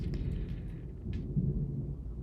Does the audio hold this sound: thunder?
yes